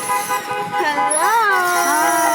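A squeaky car horn honks in a long, wavering toot at a drive-by parade, rising and falling in pitch, with people calling out greetings nearby.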